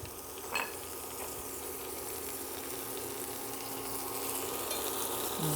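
Food frying in a pan with Earth Balance vegan butter and melting cheese, a steady, moderately loud sizzle and hiss that holds evenly throughout, with one brief clack near the start and no speech.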